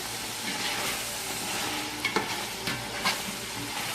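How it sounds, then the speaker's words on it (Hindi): Chicken for white yakhni pulao is pan-fried over reduced heat, a continuous close sizzle broken by a few scraping stirs of the spoon against the pan. "देखिए चिकन हमने भून लिया।"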